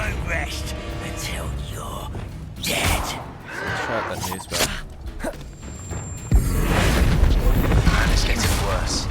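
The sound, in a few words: Confringo spell explosion in a video game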